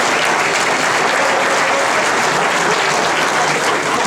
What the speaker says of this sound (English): Round of applause for all the 2013 Prestige Plumbing Bandolero drivers.